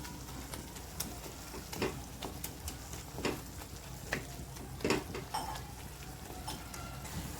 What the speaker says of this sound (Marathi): त्याला थोडासा स्मॅश करायचं चमच्याने